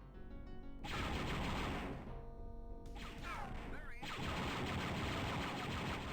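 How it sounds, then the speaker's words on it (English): Enemy gunfire in Star Wars Dark Forces: dense, rapid bursts of blaster-style shots and crashes, loud and close, running through most of the stretch with a brief lull in the middle. "Guy starts shooting at me."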